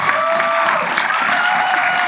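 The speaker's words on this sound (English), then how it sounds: "give him a huge round of applause" Dense, steady applause from a large audience at a live premiere Q&A held in an arena, loud and continuous throughout with cheering mixed in.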